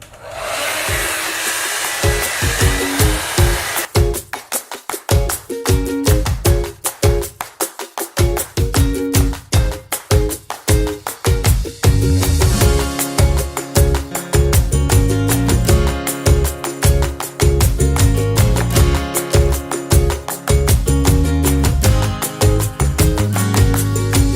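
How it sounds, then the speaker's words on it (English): A hair dryer blows on hair freshly coated with a keratin treatment at home, a steady close whoosh running the full length under loud, rhythmic background music. "It just seems weird that I'm going to dry this into my hair."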